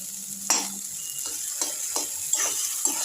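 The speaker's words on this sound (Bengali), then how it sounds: "এইভাবে করে রাঙা আলুটাকে এর সাথে ভালো করে মিশিয়ে নেব।" Mashed sweet potato being stirred into semolina cooking in a pan, with repeated scraping strokes of a utensil roughly every half second over a soft background sizzle.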